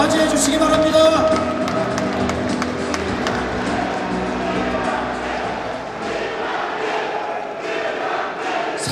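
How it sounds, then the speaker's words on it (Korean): Crowd at a Democratic Party convention in a large hall greeting candidate Kim Han-gil with sustained applause, a dense, loud wash of clapping and cheering that tapers gradually. "뜨거운 박수로 맞이해 주시기 바랍니다"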